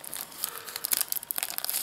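Packaging crinkling and tearing open on an old gold Maxell VHS-C TC-30 camcorder tape, a burst of crisp close plastic rustles and rips with no voice.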